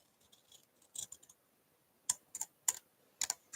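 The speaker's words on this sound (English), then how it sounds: "We're going to use some scissors here," Scissors snip through the edge of a paper scrap card in a few quiet, crisp cuts, sharp short clicks spaced irregularly and heard close up with no talking.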